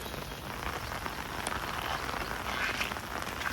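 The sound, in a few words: continuous rain during village flood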